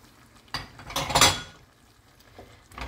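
Chopped red and green peppers stirred with a spoon in a pan with melted butter, a short scraping swish and clink of utensil against metal, close and brief.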